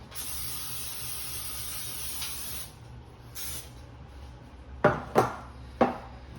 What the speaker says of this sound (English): And I'm going to spray the pan.